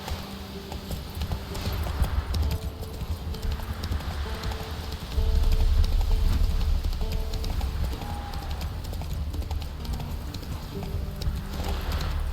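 Roach, a horse in The Witcher 3, gallops with a steady, rapid clip-clop of hooves under low rumbling game ambience, growing louder about halfway through.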